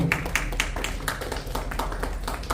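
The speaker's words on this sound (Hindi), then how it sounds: "धन्यवाद, इन्होंने इतना अच्छा योगा कराया, इनके लिए ताली बजाई जाए" An audience applauds a yoga instructor with a short stretch of steady, moderately loud clapping from a group of people.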